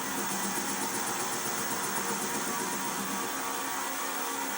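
A metal lathe making an interrupted cut on uneven metal, facing the workpiece while the tool contacts only part of each revolution, giving a steady, loud mechanical grinding drone with a rapid repeating pulse and no talk.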